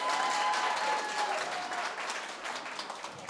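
A concert audience bursts into loud, dense applause that fades gradually over a few seconds.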